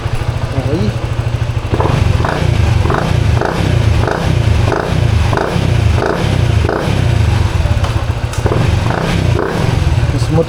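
A Honda RS150 motorcycle engine runs up close in a repeated revving rhythm, its pulses rising and falling in an even beat after a short quieter opening. A voice is heard faintly under the engine noise.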